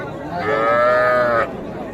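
A young heifer calf, about three months old, at the Ambari cattle market gives one loud, close moo lasting about a second, with faint crowd chatter in the background.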